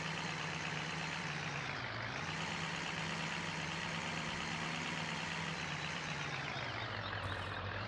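A Ford 350 truck in the farming game Farming Simulator 17 runs with a steady, droning engine hum while a continuous high reversing alarm beeps throughout, its pitch dipping briefly as the engine revs shift.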